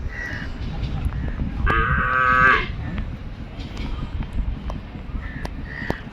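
A Sahiwal bull on a Gazipur farm lets out a single deep moo lasting about a second, loud and near, over steady background noise of the barn.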